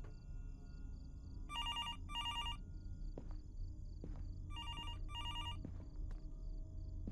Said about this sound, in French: Le téléphone n'était pas supposé fonctionner.